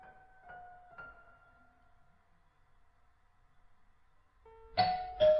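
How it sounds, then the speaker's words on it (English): Doorbell ringing with clear chime tones at the start, a long quiet gap, then another louder ding-dong near the end, fairly close and alone without talk. "It was about 5:30 or so when I heard the doorbell ring."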